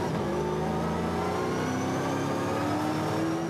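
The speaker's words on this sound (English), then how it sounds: "You can hear that wheel spin too from Gibson as he tried to get the traction down out of turn number 1" V8 SuperTourer race car accelerating out of turn one at Taupo with wheel spin, a loud sustained engine roar with rising harmonic tones throughout, no talk.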